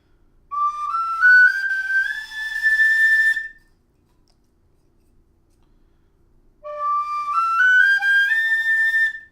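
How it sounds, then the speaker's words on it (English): A Clarke tin whistle plays two clear, breathy rising melodic phrases separated by a few seconds of silence, close and fairly loud, with no voices. "The problem I have with the Clark whistle is I love the breathy sound to it."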